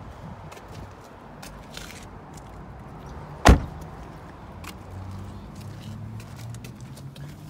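The small rear door of a Hyundai Veloster shuts in a single sharp, loud thud partway through. Quiet outdoor ambience and faint shuffling surround it before and after.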